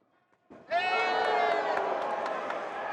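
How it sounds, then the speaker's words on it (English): A boxing crowd at an El Tigre Promotions fight erupts into loud, sustained cheering and shouting after a moment of quiet, a dense roar of many voices that holds steady to the end. "The crowd go mad"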